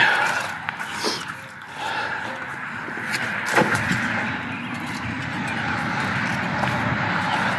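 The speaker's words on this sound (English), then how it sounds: "I don't know if you can hear the traffic." Steady roadside rumble of busy traffic passing outdoors, a continuous wash of car noise with a few brief louder knocks and bumps near the mic.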